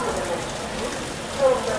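Heavy rain hisses steadily throughout during a monsoon journey on the 22361 Patna Amrit Bharat Express along the Kanpur–Delhi section near Tundla, a broadband wash with a slightly louder burst near the end and no clear talk.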